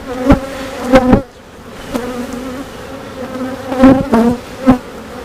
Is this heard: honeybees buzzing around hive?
yes